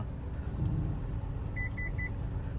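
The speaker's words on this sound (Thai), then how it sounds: "นี่ก็เป็นเสียงของฟังก์ชันระบบ RCTA นะครับ หรือว่า เตือน รถ ตัดหลังนะครับผม" A 2023 Toyota Yaris 1.2 Premium sounds its rear cross traffic alert as three short, evenly spaced electronic beeps over a low, steady cabin rumble from the car.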